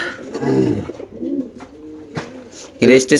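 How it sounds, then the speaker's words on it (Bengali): Caged pigeons at a pigeon farm, including a large pigeon, give soft throaty coos in short repeated bursts nearby, with a few louder calls toward the end and a voice faintly mixed in. "এখানে আছে এক পিস বড় সাইজের কবুতর"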